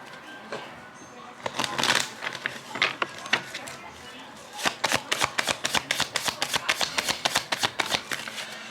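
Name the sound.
shuffling tarot cards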